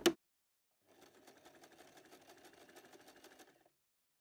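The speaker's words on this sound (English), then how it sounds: "we're going to sew the zigzag stitch to finish the edge." A sewing machine runs a zigzag stitch along the raw edge of a net curtain, a short even burst of rapid needle ticking after a single sharp click, quiet and close.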